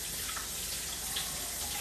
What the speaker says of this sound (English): I am going to wash it because you should wash your avocados before you cut them.